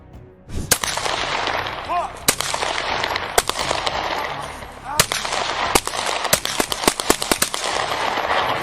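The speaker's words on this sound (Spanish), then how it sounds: "Veremos la balacera desde ambas cámaras para tener una perspectiva completa del desenlace" Rapid bursts of gunfire crack repeatedly during a police shootout with a kidnapper, some shots sharp and loud, others scattered, over a constant noisy background with faint voices.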